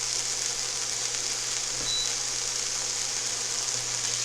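Ingredients for black bean burgers sauteing in a pan give a steady, soft sizzle with fine crackle, close and even throughout, with no talking.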